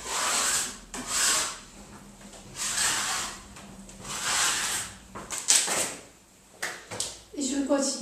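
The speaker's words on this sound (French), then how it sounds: "d'enlever les petites écailles d'enduit qui étaient posées avant, tout en évitant de faire des trous dans le mur" A plastering float scrapes old render flakes off a wetted wall, making rhythmic rasping strokes that swell and fade close by, with a voice speaking between them.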